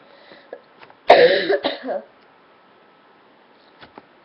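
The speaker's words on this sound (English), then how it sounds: "Got a little bit of a cough." A short burst of coughing, a couple of rough harsh coughs close by, with faint soft sounds before and after in a quiet room.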